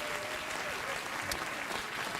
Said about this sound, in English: Now you give me applause.